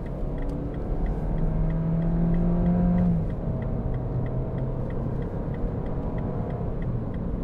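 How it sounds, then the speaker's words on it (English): A 2014 MINI Countryman Cooper ALL4, a four-wheel-drive automatic, pulls away under throttle with a steady low engine rumble heard from inside the cabin and a faint rhythmic ticking throughout. "Give it some gas."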